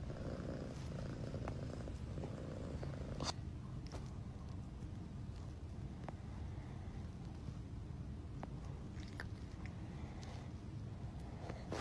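A cat purring close up, a steady low rumbling drone that runs throughout, with a few faint clicks and rustles on top.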